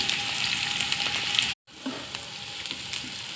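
Onions and green chilies fry in oil in a kadai, giving a loud, continuous close-up sizzle that cuts out briefly for a moment, then resumes with faint stirring.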